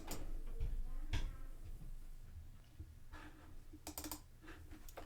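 Quick bursts of typing on a computer keyboard while writing a formula in Power BI, the clicks coming in short irregular runs near the mic over a quiet room.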